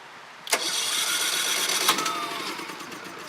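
Champion 3400 watt inverter generator running on propane, cranked by its electric starter: a sharp onset, then a steady whirring crank for about three seconds with a second jolt midway, before it fades out without catching.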